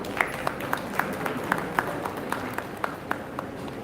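An awards-ceremony audience gives light, sparse applause, with individual claps ringing out one by one at a steady, fairly quick pace over a quiet hall.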